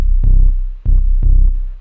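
Unprocessed heavy synth bass patch for progressive house, four loud deep booming notes in a slow steady pulse, each sustained and droning before the next hits, very bassy and alone.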